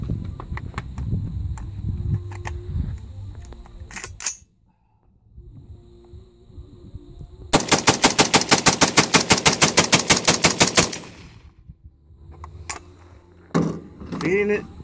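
PSA KS47 rifle fires a rapid string of roughly twenty evenly spaced, loud, close shots for about three seconds, followed by a single shot later, with speech before and after the burst.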